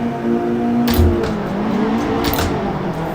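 In the Assetto Corsa racing game at Imola, a race car engine idles and revs on the start line at the red lights, a steady droning hum with brief surges.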